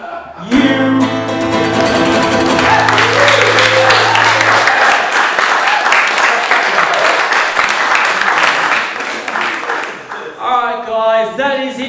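Loud, dense audience applause fills a live comedy show, sustained for several seconds over stage music, then tapering as a performer's voice returns near the end.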